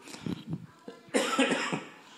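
A person with a cold coughs several times, a run of short hacking coughs and a louder, longer coughing burst near the end, close and fairly loud with no talk.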